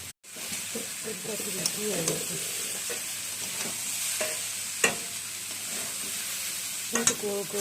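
Boiled chow mein noodles being stir-fried in a pan, a loud continuous sizzle and hiss with spatula clacks and scraping at intervals, close up.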